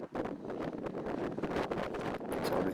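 Strong wind gusting across a disc golf course, rough buffeting roars pounding the microphone in uneven bursts, loud and close, with no voices.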